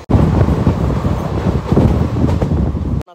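A passenger train runs along a route through Hyderabad, giving a loud, steady rumble with wind buffeting the microphone, unbroken for about three seconds and then cutting off abruptly.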